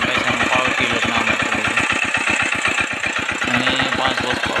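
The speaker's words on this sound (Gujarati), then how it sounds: "અને 5 હોર્સપાવરનું એન્જિન છે." A 5-horsepower power tiller engine runs close by in a village setting, with a loud, steady, fast chugging beat that continues without a break.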